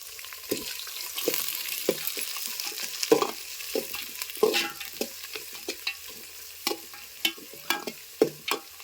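Onion and green chilies fry in oil for wheat-rava upma, a soft steady sizzle broken by repeated clinks and scrapes of a spoon stirring the pan, close and alone with no voices.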